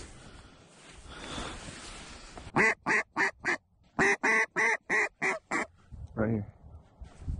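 During a duck hunt from hay bales, a burst of loud, rapid duck quacks in a rhythmic series close by, following a soft murmur of voices, with one last quack trailing off.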